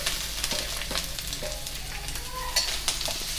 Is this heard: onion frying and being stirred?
yes